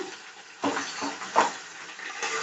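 A spice powder of roasted gram dal, cinnamon, cloves, cardamom and bay leaf fries in oil over ginger-garlic for chicken haleem, giving soft sizzling with a few stirring scrapes and utensil knocks against the pot.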